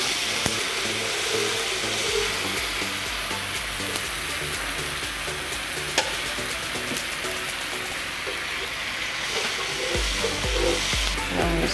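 Fried eggs simmer in light and dark soya sauce in a pan, giving a steady, close bubbling sizzle with scattered crackles that carries on evenly throughout.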